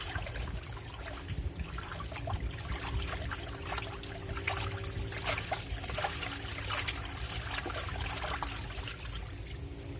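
Water poured into a Black&Decker washing machine while school uniforms are washed: a continuous splashing, trickling rush over a low machine hum, steady for the whole stretch with no talking.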